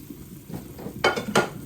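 Onions and garlic sizzle in a frying pan with a couple of sharp stirring scrapes and clatters, fairly close by.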